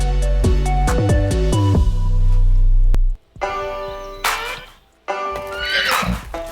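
A horse at a riding stable lets out a loud, drawn-out whinny, followed by snorts and breathy neighs separated by short pauses.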